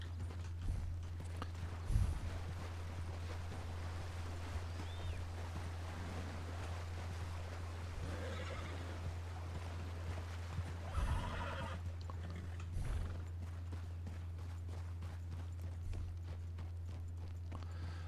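Grey Kentucky horse snorting and whinnying in a few short bursts, with occasional hoof clops, set against a steady low hum; no one speaks.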